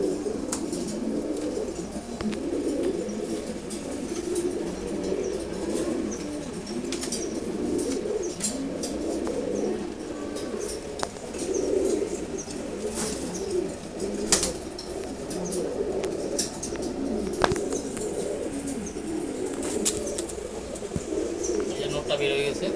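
A pair of red checkered pigeons coo in soft repeated throaty rolls alongside wing flaps and clicks nearby, with a person talking quietly in the background.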